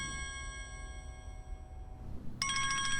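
A mobile phone ringtone rings as a bright electronic melody of clear tones, pausing briefly and starting again near the end, heard alone and fairly close.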